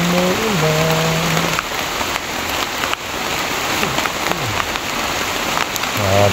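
Steady heavy rain hammers close by without letting up; a voice speaks briefly at the start and again at the very end.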